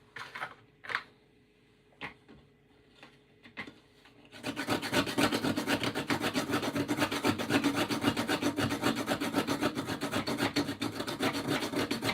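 Whole nutmeg rubbed against a small grater while baking cakes, a few scattered scrapes at first, then a steady, dense rasping that runs continuously and loud to the end.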